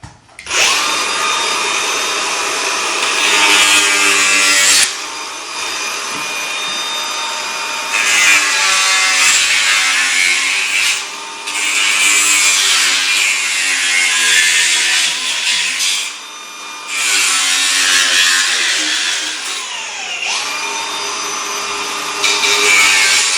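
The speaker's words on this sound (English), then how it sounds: "So let me get to cutting this first," A power saw cuts through a metal fuse box relocation bracket from Reklez Suspension Works in loud, sustained bursts, with short pauses between passes.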